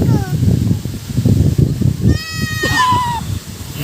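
Two baby goats bleat, a high wavering cry rising then falling near the end, heard close over ongoing children's and adults' chatter and outdoor background noise.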